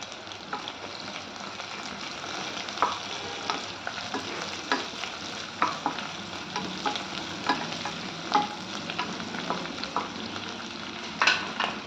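Onions, green chillies and curry leaves sautéing in a pan, a soft continuous sizzle broken by repeated scraping stirs at an irregular rhythm, close and moderately quiet, no voices.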